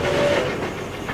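A train arrives at the Alice Springs station, a steady rumble with a brief whistle-like tone at the start, heard alone.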